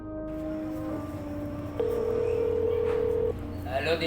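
A telephone call tone sounds as one steady, level beep for about a second and a half over low background noise, and a brief voice follows.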